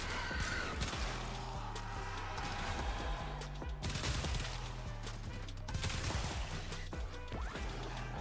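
Incarnon Vasto fire in the video game Warframe, a dense rapid fusillade of gunshots and crashing impacts against enemies, loud and continuous with game effects layered underneath.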